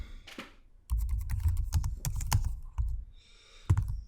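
Keys clatter on a computer keyboard in a close, irregular burst of typing, a run of quick clicks with short pauses and a final tap, no voices.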